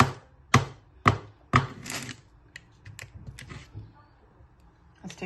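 Sharp crunching bites into candied grape tanghulu with a hard sugar shell, several crisp cracks close up followed by fainter chewing crunches.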